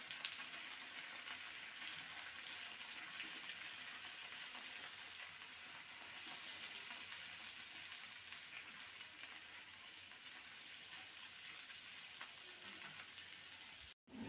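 Cut bitter gourd frying in a hot pan of oil for a mustard bitter gourd dish, giving a steady, even sizzle with faint crackle that runs unbroken throughout, with no talking.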